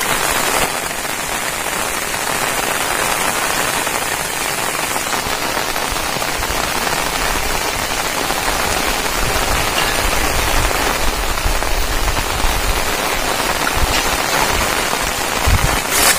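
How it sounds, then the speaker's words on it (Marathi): Heavy monsoon rain, the first of the season, pours down in Rajapur in the Konkan region as a dense, steady hiss close by, unbroken for the whole stretch. "तर दुपारपासून आपल्याकडे खूप पाऊस पडलाय."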